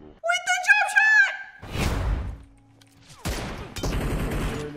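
Video game sniper rifle gunfire: two sharp, loud cracking shots with booming tails, separated by a short pause, preceded by excited vocal sounds and a brief synthetic tone between.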